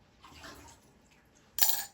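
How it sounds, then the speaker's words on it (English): Hot water is dumped from a coffee cup during latte making on a Breville Oracle Touch BES990BTR espresso machine, a faint brief trickle followed by a sudden loud splash into a sink or drip tray. "Now I'm going to get rid of this hot water in the cup."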